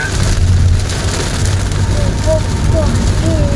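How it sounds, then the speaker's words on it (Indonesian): Heavy rain falls steadily as a dense broadband wash from start to finish, recorded outdoors during a rainy day of holiday homecoming traffic, with faint speech-like tones drifting over it. "Ya, hujan makin jadi deras."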